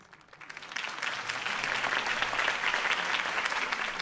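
Applause from a crowd in the video game Batman: The Telltale Series swells up after a quiet start and holds steady, a dense wash of clapping with no voices.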